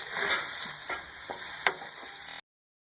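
Chopped green chillies and green capsicum fry in hot oil with a loud, steady sizzle, broken by a few sharp scrapes of a stirring spoon, close up with no talk, ending abruptly in silence.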